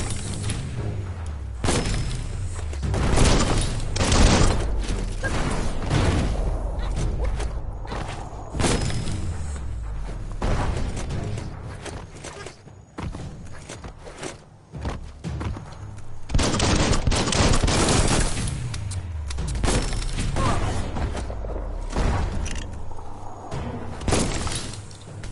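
Loud repeated explosions and gunfire from combat with a bomb lobber enemy in Biomutant, a long chaotic stretch of booming blasts, shattering impacts and rapid shots with brief lulls.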